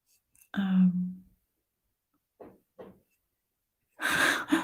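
A single close sneeze bursts out, followed by a couple of soft breathy sounds and then a burst of whispery noise.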